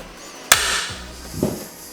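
A plastic trim tool pries a clip off a car fuel pump part with a sharp snap, then a short rattle and a softer scrape, close and moderately loud, with no voices.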